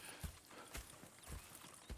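Horse hooves clip-clop in Red Dead Redemption 2, a steady walking rhythm of about seven distinct thuds over two seconds, close but fairly quiet, with no talk.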